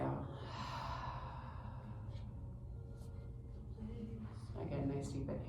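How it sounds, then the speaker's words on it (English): A person exhales slowly and deeply during yoga breathing, one long, soft, breathy sigh close to the microphone over faint background hum. "And exhale."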